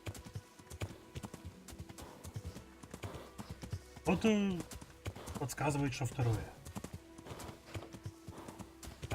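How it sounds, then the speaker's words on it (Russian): Horse hooves clip-clop steadily along a dirt path in the medieval game Kingdom Come: Deliverance, a quick even trot heard close, with someone talking over it in Russian and a brief whinny-like snort in the middle. "А по тропинкам лошади бегают так себе."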